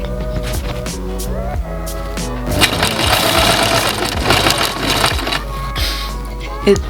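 A sewing machine stitches through denim jeans nearby, with a steady mechanical whir and rapid needle clatter that grows louder and denser midway, along with some handling knocks.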